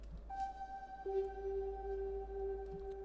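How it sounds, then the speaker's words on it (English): A sampled Rhodes electric piano drenched in heavy reverb plays two sustained notes, the second entering lower and ringing on with long smooth tails over soft low background noise. "I have this sample of a Rhodes that I found in my sample library, and I'm using that with a lot of reverb."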